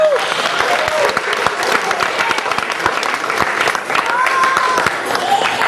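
Steady audience applause after a linking rings magic trick, a dense wash of many hands clapping continuously throughout, with faint voices mixed in.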